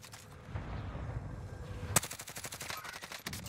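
Bursts of GRAU assault rifle fire in the Warzone video game, a quieter stretch followed from the middle by a rapid run of close, evenly spaced shots.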